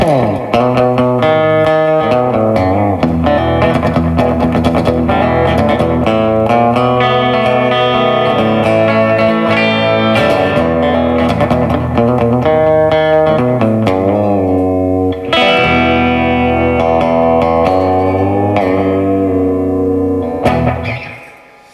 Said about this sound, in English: add a little slapback echo here.